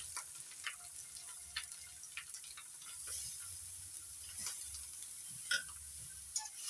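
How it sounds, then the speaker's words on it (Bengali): Grated carrot and beetroot stirred in a frying pan, with soft scraping and clicking strokes of the spoon over a steady low sizzle, close up and fairly quiet, with no talking. "ভালো করে নাড়াচাড়া করে নিচ্ছি।"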